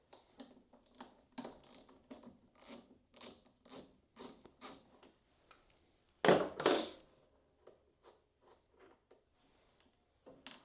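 Ratcheting socket wrench work on the positive battery terminal of a John Deere S100 riding lawn mower, a 10mm socket turning in short repeated clicking bursts, close and fairly quiet, with one louder scraping rustle partway through.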